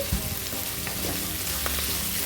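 Potatoes for a broad bean and potato curry fry in a pan with a steady close sizzle, broken by a few light stirring scrapes.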